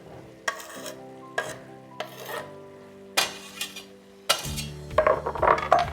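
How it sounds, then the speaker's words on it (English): Chopped mushrooms and ground meat cooking in a pan for porcini risotto, with repeated scraping strokes of a utensil against the pan over a steady sizzle, growing busier and louder toward the end. "We'll let these mushrooms start to cook a little bit."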